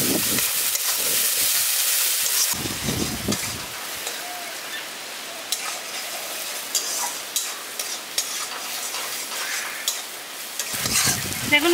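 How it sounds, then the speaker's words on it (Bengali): Ground spices, including cumin powder, are stirred into a village-style rohu fish curry in a sizzling pan. Repeated scraping strokes sound close and steady over a constant bed of frying hiss. "দেখুন গুঁড়ো মশলাগুলো দিয়ে ভালো করে মিশিয়ে দিয়েছি।"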